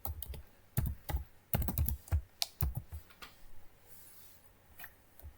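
Fingers type Python code on a computer keyboard, producing close, crisp clusters of key clacks in irregular bursts with short pauses between them.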